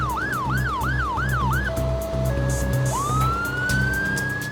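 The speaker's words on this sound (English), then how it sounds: "Not far behind, an ambulance." An ambulance siren wails in a rapid, rising-and-falling pattern, then shifts to steady tones and a climbing sweep, loud and close over traffic rumble.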